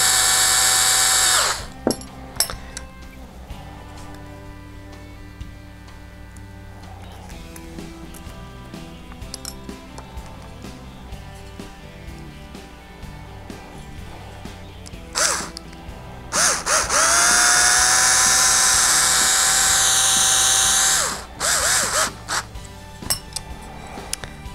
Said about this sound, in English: set it up on a high speed. Just run that screw through there real quick.